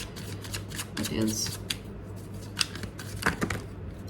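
Tarot cards being shuffled by hand, quick riffling and sliding in short bursts, near and fairly soft against a low steady hum.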